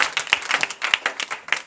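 A church congregation claps hands in time during a worship service, a quick, fairly steady series of sharp claps from several people, moderately close, with no talking.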